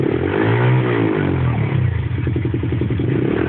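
A pit bike engine revs hard under too much throttle, rising and falling, then settles into a rough, pulsing idle-like chug close by.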